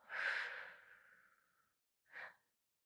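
A long, breathy exhale during a yoga session, loud at first and trailing off over about a second and a half, followed by a second short, softer breath. No talking.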